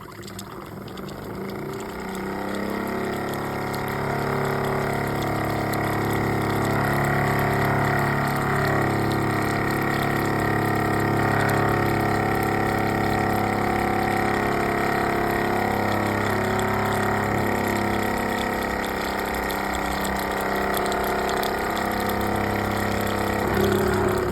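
A Mamod SE2 model steam engine runs continuously with a steady hissing, chuffing drone, close and fairly loud, holding an even level without speech.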